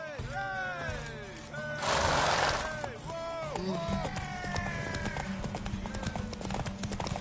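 Horse hooves clip-clopping in The Witcher 3: Wild Hunt on PS5, steady rhythmic hoof steps alongside whinnies, a brief noisy burst and game voices talking over them.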